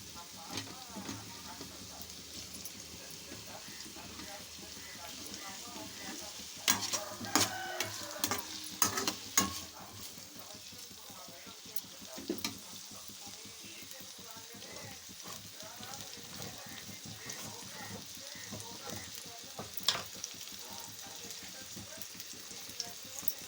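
Okra and tomato sizzle softly in a pan, a steady low crackle with occasional louder stirring scrapes and clinks in the middle.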